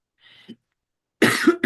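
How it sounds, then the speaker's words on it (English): A faint short breath, then a couple of harsh, close coughs in quick succession from a speaker recovering from the flu during an online meeting. "excuse the coughing"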